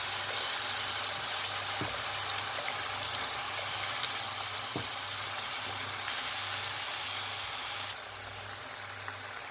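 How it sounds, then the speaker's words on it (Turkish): A steady crackling sizzle of potatoes deep-frying in plenty of hot oil continues without pause, with a faint low hum underneath and no talking. "Şimdi patateslerimizi kızartacağım."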